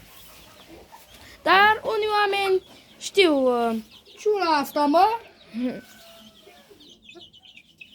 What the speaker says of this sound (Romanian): Aici o găină Da, moțată olandeză.